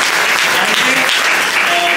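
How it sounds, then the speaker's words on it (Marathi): A seated audience at an agricultural day felicitation event breaks into loud, dense applause, continuous and close for the whole stretch. "त्यांच्यासाठी एकदा जोरदार टाळ्या झाला पाहिजे"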